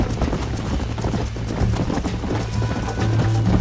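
Galloping horse hooves in the video game Red Dead Redemption, a fast steady clip-clop rhythm close up, running continuously with game background music underneath.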